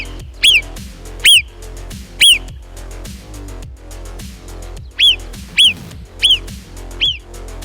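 Several sharp, high whistled alarm calls from a marmot, one at a time in uneven bursts, loud and near, spaced over the stretch with quiet gaps of low background rumble between them.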